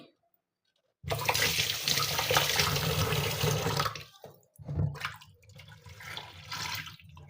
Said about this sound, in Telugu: శుభ్రంగా ఇప్పుడు ఈ పెరుగు అంతా పోయేటట్టు కడుక్కోవాలండి.